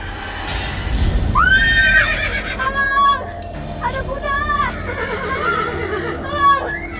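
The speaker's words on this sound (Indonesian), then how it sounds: "Ada siluman kuda." Loud horse neighs and whinnies ring out several times over a busy background in a supernatural drama scene featuring a horse spirit, with faint hoofbeat-like clip-clop beneath.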